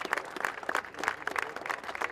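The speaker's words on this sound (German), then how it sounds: "Nach dem verdienten Beifall zur Ehrung des Hauptrennens" Applause from a crowd following the award ceremony for the main race at a motorboat racing event: a short burst of dense, steady clapping from many hands, even and continuous.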